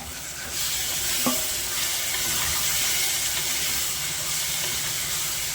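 Tomato is stirred into a pan of cooked beans and potato curry, with a steady sizzle and steamy frying hiss throughout and a single spoon knock near the start, close and alone without talk.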